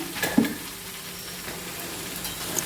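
Turmeric powder being stirred into red cheera (amaranth) thoran in a frying pan: a soft continuous sizzle with light scraping of the spoon, close and moderately loud, no voices.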